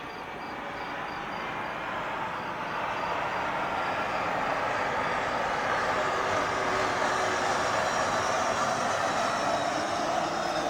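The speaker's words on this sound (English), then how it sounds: "Hold on, a plane's coming." A plane passes overhead, its broad roar rising gradually and holding loud and steady, a dense rumbling wash with no voices over it.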